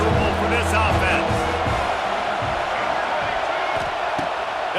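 A stadium crowd roars at a college football game in Tuscaloosa against Bama, a loud, steady wall of cheering that never lets up, with an announcer talking over it.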